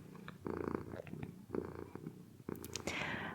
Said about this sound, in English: Hopefully her purring is soothing.